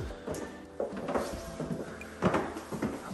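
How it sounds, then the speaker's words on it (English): Bedroom sliding door to a backyard in a remodeled house in St George, Utah, sliding and clunking in a few short bursts of rumbling and knocks, close and moderately loud. "this bedroom has a sliding door that takes you out into your backyard."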